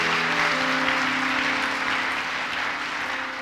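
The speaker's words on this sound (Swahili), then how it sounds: "acclamez Jésus pour moi." A church congregation breaks into sustained, dense applause for Jesus during a sermon, a steady wash of clapping that fills the room evenly from start to finish, with musical tones faintly under it.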